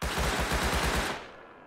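An AK rifle firing in the video game Rust: a rapid, evenly spaced burst of about eight loud, close shots that ends abruptly, leaving a short fading echo.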